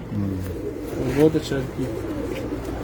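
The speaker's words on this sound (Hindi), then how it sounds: "ये मेरा कबूतर है जी, एक कमांडो माशाल्लाह।" A pet pigeon on a rooftop coos softly in short repeated phrases close by, under someone talking in Hindi-Urdu.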